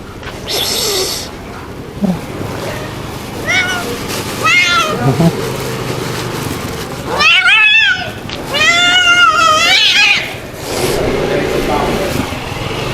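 Several cats meow and squabble at close range, with rising wails and a sharp yowling flare-up partway through, while a person speaks intermittently and faint traffic noise sits underneath.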